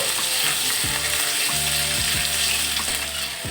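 Chicken frying in a little oil with grated garlic and ginger, a loud, dense sizzle throughout with a few spatula scrapes against the pan.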